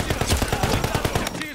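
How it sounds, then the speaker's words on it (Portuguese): Rapid bursts of automatic gunfire from a Warzone match, dense, loud, repeated shots in quick rhythm filling the moment, with no speech over them. "Tô levando tiro."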